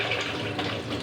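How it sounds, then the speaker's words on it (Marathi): Tap water runs as a bottle gourd is washed clean under it, a short, close, splashy rush of water. "भोपळा असा स्वच्छ पाण्याने धुवून घ्यायचा आहे"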